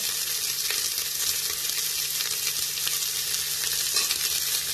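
Carrots, onion and tomato sizzle loudly and steadily in a hot pan while being stirred, a dense, continuous frying hiss with faint scraping throughout and no voices.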